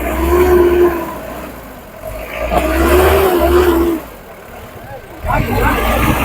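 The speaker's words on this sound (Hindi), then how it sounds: "देखिए हमारी गाड़ी चढ़ रही है।" A car engine labours and revs loudly as the vehicle climbs a steep uphill track in Neelum Valley, rising and falling in strain, briefly easing before surging again, with someone talking over it.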